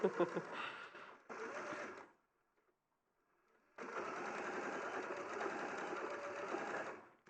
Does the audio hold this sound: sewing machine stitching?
yes